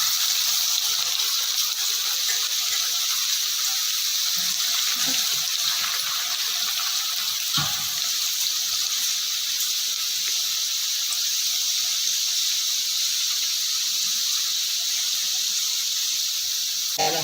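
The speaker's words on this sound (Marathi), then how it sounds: "आपण बाकीचे पण संपूर्ण तळून घ्यायचे चांगलं कडक तेल झालंय" Crisps deep-frying in very hot oil, a continuous bright hiss and fizzing bubble with an occasional faint squeal, steady and close for the whole stretch, with no talking.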